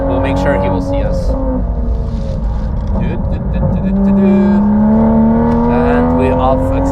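Hybrid turbo Toyota Supra making 910 hp accelerating on the Nürburgring, a loud, steady engine drone that climbs in pitch as it pulls, with voices talking over it.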